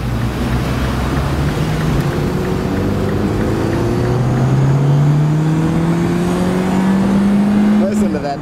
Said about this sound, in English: That big rev out.